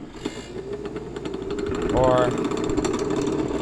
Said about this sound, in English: the compressor just came on